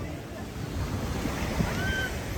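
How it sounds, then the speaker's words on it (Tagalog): Waves roll in steadily at Pickering Beach in Ajax, Ontario, on Lake Ontario's shore, a continuous wash of surf mixed with wind noise on the microphone. "lumalakas din ang alon"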